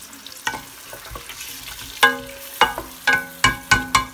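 Tomatoes frying in a hot pan give a steady low sizzle, with a series of sharp clicks and clatters from stirring utensils striking the pan, all close and with no speech.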